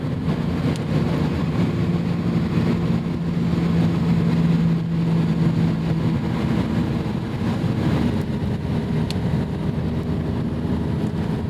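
Steady engine drone from a 1991 BMW M5 E34 on the move, a continuous low hum and rumble with road noise, loud and even throughout, no talking.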